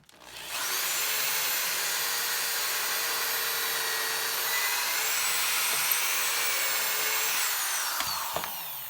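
A power drill whines steadily at high pitch while re-drilling epoxy-filled wood with a Kreg jig, running continuously for several seconds before winding down near the end.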